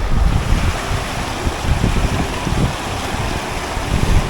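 River water rushing at a river crossing on a wet hiking trail, a loud steady broadband roar mixed with low wind buffeting on the microphone, continuous throughout with no talking.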